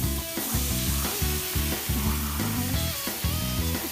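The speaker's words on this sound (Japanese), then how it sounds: "お皿に乗ってる状態からひっくり返して焼けばいいんだな" Beef offal (horumon) sizzles steadily on a hot grill, a dense crackling hiss close by with no talking, layered over faint background music.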